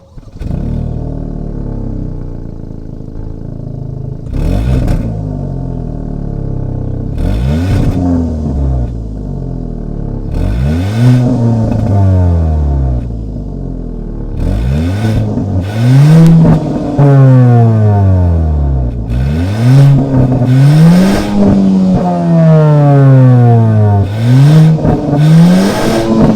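A 2022 Kia Soul's 1.6-liter turbo engine revs repeatedly, each blip climbing sharply then falling back to idle, with the runs growing longer and harder toward the end, close and loud with no talk.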